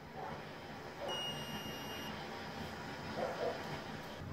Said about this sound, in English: This torque wrench will beep and also light up orange when you're close and red when you reach the spec.